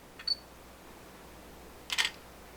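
A DSLR camera shutter fires twice, first a short faint click, then a louder crisp mechanical clack about two seconds later, both close and isolated in a quiet room.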